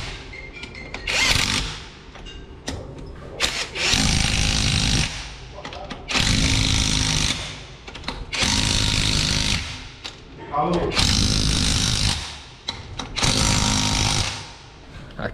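A power tool tightening the wheel bolts on a Malibu fitted with temporary wheels, fired in five or six loud rattling bursts separated by short pauses.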